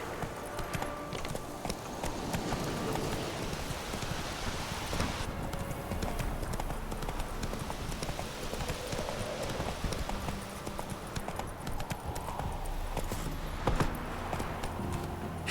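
Hooves of the horse Roach clip-clop steadily at a gallop through The Witcher 3, a close, continuous drumming rhythm over ambient game background with no voices.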